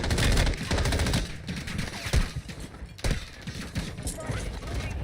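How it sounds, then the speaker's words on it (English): Rapid bursts of gunfire ring out in Call of Duty Warzone, close sharp shots and fusillades repeating across the span, with talk underneath. "His back is facing me and he's still shooting at me."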